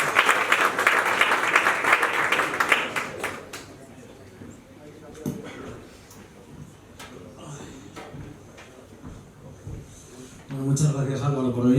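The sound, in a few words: loud applause from audience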